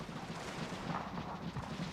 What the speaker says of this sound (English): Using the mortar shots here, I'm going to target this unit right here.